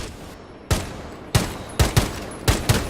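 Gunfire from the Bearing 9 gun in Rainbow Six Siege, shooting at a wall to make a hole: six or seven sharp, loud shots in irregular bursts, standing alone over a low background.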